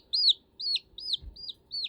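A blind baby chick peeps loudly and insistently, five shrill, evenly spaced calls in a rapid rhythm, close and clear with no talk.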